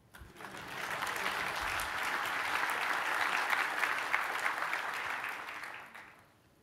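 Keynote audience at a 2012 San Diego tech conference breaks into a round of sustained applause, a dense wash of clapping that swells in, holds steady for several seconds, then tapers off near the end.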